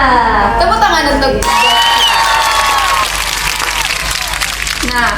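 Studio audience applause and cheering welcoming two guests onto an Indonesian education podcast, a loud continuous wash of clapping and whoops that fills the whole stretch, with voices mixed in.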